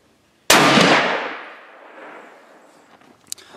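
A .300 Win Mag rifle fires at 100 yards through three layers of plastic into steel: one sharp, loud crack that decays over about two seconds, followed by a faint metallic tick.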